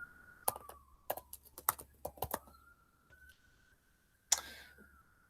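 Computer keyboard keys are typed in a quick burst of close, crisp clicks, then a pause and one final sharp keystroke, over a faint steady electronic tone.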